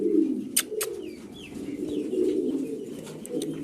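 A nesting pair of cream bar frillback pigeons coos in a low, continuous rolling murmur, close and steady, with a few sharp chirps and light clicks from other birds above it.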